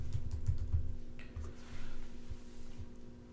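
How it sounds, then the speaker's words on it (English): Keyboard typing while a domain name is entered into a lookup website, soft muffled keystrokes under a steady low hum, close and fairly quiet, without speech. "let's type in apple.com here"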